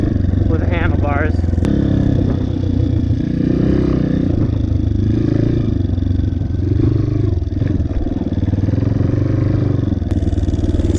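A dirt bike's engine drones loud and close through a flat corner, with the rider leaning the bike left by pushing on the handlebars; the steady motor hum comes with some clatter and wind.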